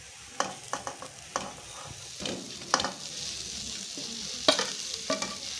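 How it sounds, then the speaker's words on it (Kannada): Onions fry with cabbage and carrot in a pan for momo filling, a soft sizzle broken by irregular clacks of a spatula stirring and scraping the vegetables, close and fairly quiet, with no talk. "ಇವಾಗ ಈರುಳ್ಳಿನ ಚೆನ್ನಾಗಿ ಹುರಿಯಿರಿ"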